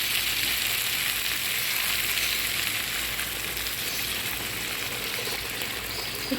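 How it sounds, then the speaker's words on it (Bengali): Boiled hot water poured into a pan of spiced prawns, potatoes and amaranth stems frying in masala, producing a continuous rushing sizzle and gurgling flow that holds steady throughout. "এখন এখানে ফুটানো গরম পানি দিয়ে দিব"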